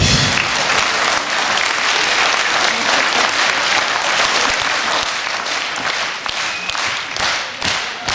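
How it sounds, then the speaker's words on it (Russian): An audience at a 2014 concert in Shepetivka applauds a drummer, with loud, dense clapping that holds steady throughout. "Ваш аплодисмент."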